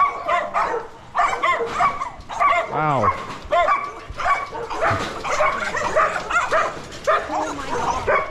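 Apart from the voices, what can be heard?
dogs barking at a house in the Philippines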